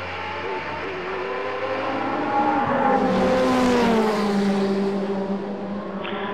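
A 1989 Porsche 962C race car at a vintage racing reunion roars past, its engine note swelling loud as it nears and then fading off, heard alone without talk.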